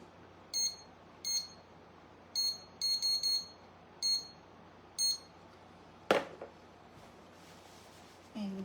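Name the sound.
kitchen timer being set for 5 minutes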